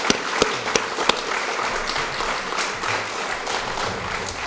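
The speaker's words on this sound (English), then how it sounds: "Please join me in a round of applause to thank the candidates for participating tonight." Audience at a League of Women Voters school district candidate forum applauds the candidates, a sustained round of clapping at moderate volume with a few sharp, distinct claps early on and little talk.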